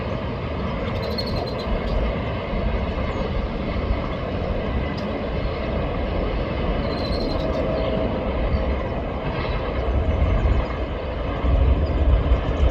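Norfolk Southern freight train with a heritage unit rolling past on an elevated curve in Vermilion, Ohio: continuous rumbling wheels and rail noise with occasional faint high squeals, steady and fairly near throughout.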